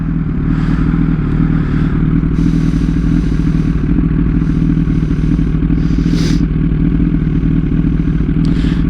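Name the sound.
motorcycle riding in traffic in low gear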